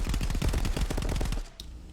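Rapid automatic gunfire from the VR shooter Contractors VR, with dense overlapping bursts of shots for about a second and a half that then cut off abruptly, leaving one faint distant report.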